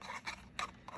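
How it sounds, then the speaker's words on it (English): Scissors snipping a small flap from card for a pop-up box card, a few short, close rasping cuts in quick succession, fairly quiet with no voice over them. "each one of those flaps, we're just going to cut a little bit"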